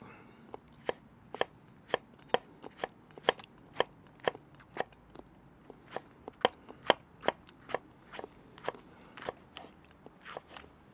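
A knife chops a homegrown banana pepper on a board for a quick salad, a steady series of crisp, close cuts, roughly two per second, each a sharp crunchy tap against quiet outdoor background with no talking.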